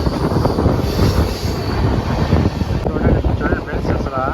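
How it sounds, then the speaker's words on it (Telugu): Pinakini Express train passing at a crossing near Nellore city, a loud close rush of wheels and rattling carriages with some squealing throughout, and a voice faintly under the noise. "ఎక్స్ప్రెస్ ట్రైన్ అయితే వెళ్తుందండి"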